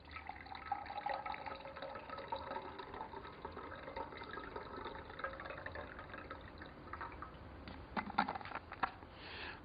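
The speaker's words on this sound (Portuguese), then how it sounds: "E pegamos a água gelada e colocamos no outro copo." Ice-cold water poured from a thermos into a cup for a chemistry demonstration, a quiet continuous splashing stream lasting several seconds with small bright clinks and drips toward the end.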